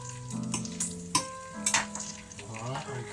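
Butter sizzles and fries steadily in a hot pan while making a bacon and sausage dish, with brief clatters of utensils and a low voice talking in the background.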